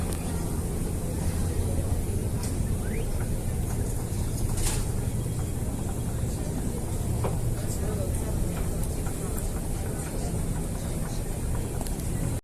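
A Guangzhou Metro train runs through a crowded station at evening rush hour, a loud, constant mechanical rumble and rush with occasional clicks and squeals, crowd noise blended in beneath.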